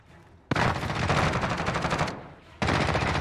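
Automatic gunfire in a shooting video game, loud sustained bursts of rapid shots with a brief pause before another burst resumes, no talk over it.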